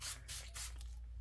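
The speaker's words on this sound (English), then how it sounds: "Then I'm going to use some spray stains" Distress spray stain in Lost Shadow shade hisses onto paper in two or three short, close bursts, each a soft airy spritz with brief pauses between.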